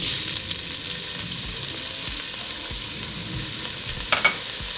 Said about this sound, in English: once our oil is hot, we're going to throw in our onion